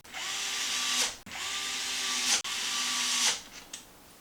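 A power drill drives tapered screws into a skid plate during a WideMaxx arm installation, three close whining runs of about a second each, separated by brief stops.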